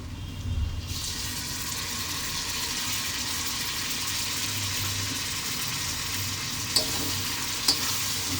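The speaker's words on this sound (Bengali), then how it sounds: "এবার টমেটো কুচিগুলো দিয়ে দেব।" Chopped tomatoes hit a pan of garlic paste on high flame for a mutton dak bungalow curry, a steady loud sizzle and frying hiss running throughout with a few sharp spatter pops and stirring scrapes near the end.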